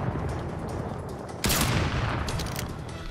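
Rapid bursts of gunfire from shooting in a video game, the volume jumping sharply halfway through into a denser, louder volley that continues to the end, with no talking.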